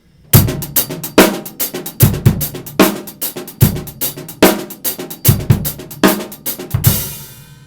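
A full drum kit halftime shuffle groove in a swung triplet feel, with kick, snare and hi-hat played firmly, ending on a ringing cymbal crash.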